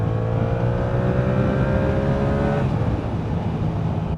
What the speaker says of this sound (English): this twin engine. I think it's the CP2.